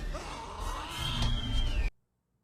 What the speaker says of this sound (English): that's obviously a Velociraptor. I can't get away from that scream.